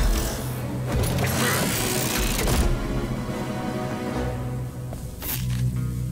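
Cartoon robot transforming, shown as a dense whirring, clanking mechanical sound effect with ratcheting and servo-like sweeps, loud and continuous, with no speech.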